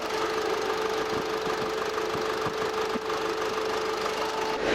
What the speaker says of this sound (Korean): 엔진룸 개방했고요 엔진 소리 들어보도록 하겠습니다